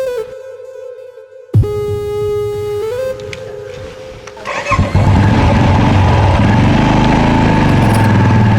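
A car engine is cranked and catches after a brief starter whine, then settles into a loud, steady idle that runs on to the end.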